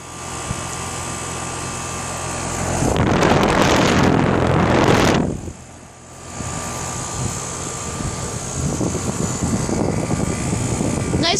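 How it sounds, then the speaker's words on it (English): A 2011 Rheem air conditioner with a Copeland scroll compressor starting up: a loud broadband whoosh surges for a couple of seconds, dips, then settles into a steady droning hum, close to the microphone. "Nice Copeland Scroll compressor."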